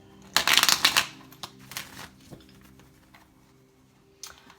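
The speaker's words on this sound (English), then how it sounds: "And so I'm going to continue shuffling." Tarot cards being shuffled by hand, a dense burst of riffling and flapping near the start, followed by sparser soft card taps and slides, close and fairly quiet with no talk.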